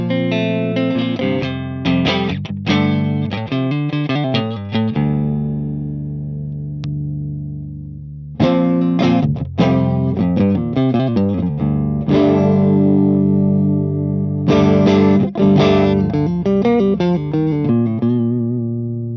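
Electric guitar run through a Boss CE-2 chorus pedal plugged straight into the amp, strummed chords and picked phrases with a shimmering modulated tone, played loud and close in bursts separated by brief pauses.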